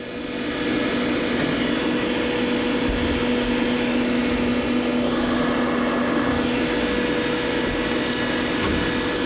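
A new 2011 Doosan Puma 400LB CNC turning center with tailstock, chip conveyor and 12-position turret runs with a steady, even mechanical hum and faint whine, holding level throughout with a few small clicks and no talking.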